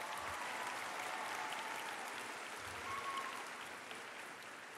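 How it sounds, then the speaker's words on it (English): An audience applauds at a national science tournament's opening ceremony, with steady, fairly distant clapping filling the hall for a few seconds. "great round of applause"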